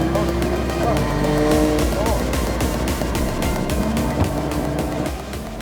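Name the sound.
drift car warming up its tyres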